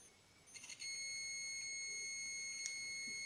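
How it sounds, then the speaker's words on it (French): A multimeter checks continuity on a wire of a trailer hitch socket on a Jeep XJ Cherokee and gives a steady, high, piercing electronic tone that starts after a few faint clicks and holds without a break. "Là ça sonne, donc il y a continuité sur le fil"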